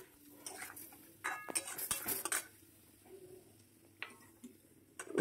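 Curry paste being stirred in a cooking pot, with a metal utensil clinking and scraping against the pot in irregular bursts, moderately loud and close, with quieter gaps between the stirs.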